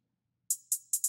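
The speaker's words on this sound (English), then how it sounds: "pretty basic hi-hat pattern." Four quick, bright hi-hat ticks from the Dead Boy Aiden drum kit, tight and crisp with short decays, played in a basic steady pattern with no other sound.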